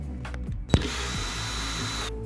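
A power drill with a 10mm socket backs a screw out of an A/C unit's front cover, a brief clack followed by a steady high whir lasting over a second before cutting off.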